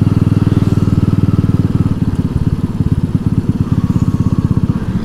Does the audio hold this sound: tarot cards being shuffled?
no